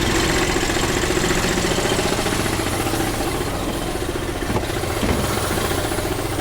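An air compressor's engine running at a loud, steady idle, a dense rattling mechanical drone that hardly changes throughout.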